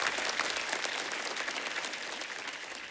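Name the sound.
audience applause for Raju Srivastava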